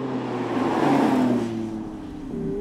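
Lamborghini Aventador Roadster with a 690-horsepower V12 sounds close and steady, its engine note rising into a brief rev and then settling back to a lower drone, heard with no talk.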